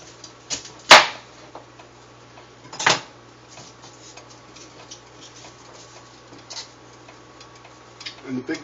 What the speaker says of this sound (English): the big chop you just heard was me cutting the asparagus in half